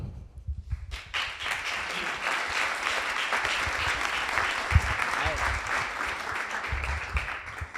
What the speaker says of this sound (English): give a big round of applause for our guest, Troy Malone